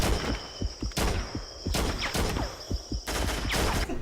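Automatic gunfire from the Haze video game, rapid fusillades in several loud bursts separated by short pauses, with sharp individual shots scattered between them and no talking.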